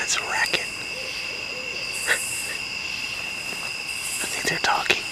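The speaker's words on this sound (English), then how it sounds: "Those owls are making all kinds of racket." Owls hooting at night near a campground, with a few low hoots at a distance over a steady chorus of insects, broken by occasional sharp clicks and rustles nearby.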